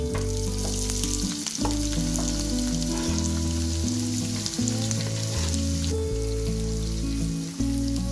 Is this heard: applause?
no